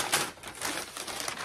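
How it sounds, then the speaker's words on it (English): Packaging for an advent calendar is torn open roughly, a continuous dry crackle and rip of wrapping that rises and falls over a second and a half, close by with no voices. "Let me just be all aggressive and rip this thing open."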